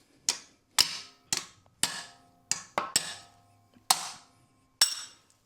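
Sharp metallic hammer blows ring out one at a time, about eight strikes at uneven intervals, each with a brief ringing decay, close and fairly quiet.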